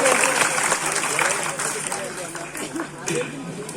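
Audience applause and crowd noise at an outdoor Ramlila performance during a 2022 Dussehra festival in Sema, a steady dense wash of clapping mixed with a voice speaking over it throughout.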